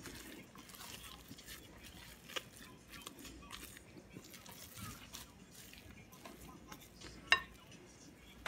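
Warm, very sticky keto everything bagel dough is mixed in a bowl, giving soft wet squelches and light utensil clinks against the bowl, with a sharper knock near the end, under intermittent talking.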